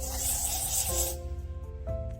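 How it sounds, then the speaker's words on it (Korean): Hair spray on styled hair: a soft aerosol hiss for about a second, then quiet with a faint hum and small clicks of the can. "이 머리는 그대로 놔두고 스프레이로 먼저 이렇게 있는 부분을"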